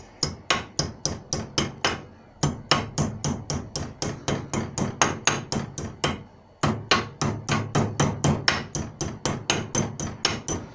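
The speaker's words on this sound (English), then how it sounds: "Right, it's a bit of bashing now." Steady hammer blows drive tie bar bushes on a Ford Cortina, sharp metallic strikes in quick regular bursts with two short pauses between runs, loud and close, with no talking.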